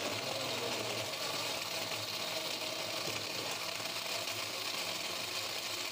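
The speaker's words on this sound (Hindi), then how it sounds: "इसको ब्लेंड करना है और तैयार।" A blender runs on a brownie milkshake of Dairy Milk chocolate and ice cubes, producing a steady, fairly quiet whirring drone with no breaks.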